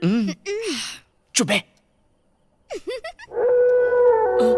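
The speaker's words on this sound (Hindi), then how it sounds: "कुत्ता भौंक रहा है" A dog howls and whimpers in a comedy scene, with harmonic wails early on and a long sustained howl in the last second and a half, loud and close, with people talking in between.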